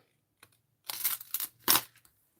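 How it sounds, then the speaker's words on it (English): Scissors snip off a strip of paper while making a stamped card, a few short crisp cuts close by with no talk. "And snip it off."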